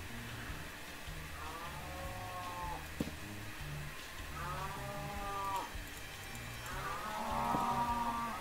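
Cow mooing in the Minecraft video game, three drawn-out moos spaced across the stretch over a steady background of game music.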